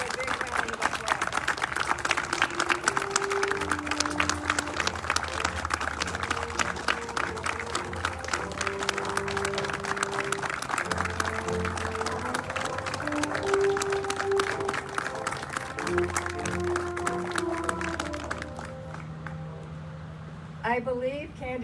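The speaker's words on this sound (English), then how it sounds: "Please give her a big round of applause." An audience at a campus ribbon-cutting ceremony claps in loud, sustained applause for about twenty seconds while a melody plays underneath, fading near the end.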